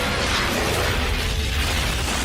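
Sea water bursts through glass into an undersea lab, a loud, continuous roaring crash of shattering and rushing water that fills the whole moment with dense noise and no voices.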